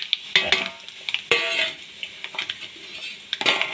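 Mustard seeds and ground fennel hitting hot oil in a pan: light crackling sizzle broken by sharp spoon and pan clinks and scrapes, with a few louder bursts spaced irregularly; no talking.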